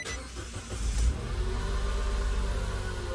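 A 2014 Nissan Note engine starts and settles into a steady, loud running drone close by, the car on a lift for a transmission fluid change, with no talk over it.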